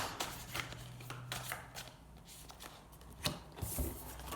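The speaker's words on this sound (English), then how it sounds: "let's keep shuffling." Soft papery riffling and flicking of an oracle card deck being shuffled, quiet and close, in irregular bursts with no talking.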